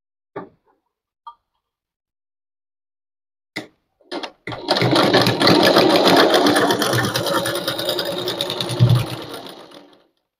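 Sewing machine stitching a Latkan tassel: a few scattered faint taps, then a loud, steady mechanical whirr with fast rhythmic needle clatter for about six seconds before it slows and stops.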